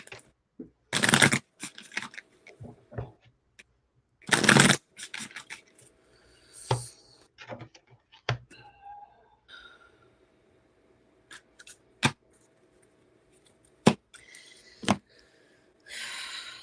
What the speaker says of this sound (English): So when I shuffle from my love deck,